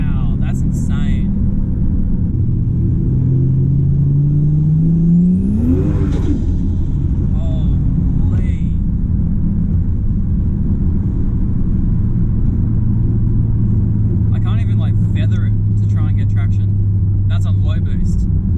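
Turbocharged Ford Falcon XR6 engine on low boost, a loud, close drone whose pitch climbs sharply as it revs, then settles into a steady high hum, with people talking over it.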